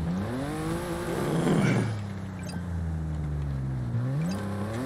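An Audi racing past in Forza Horizon 5, its engine roaring loud and close as it revs up, peaks and then drops away, shifting pitch through the gears as it passes.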